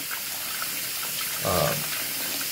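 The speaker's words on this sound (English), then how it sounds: "water coming out of the faucet" Water runs from a faucet fed by a Rheem RETEX-18 electric tankless water heater, a continuous hiss of flow with a brief louder gush midway.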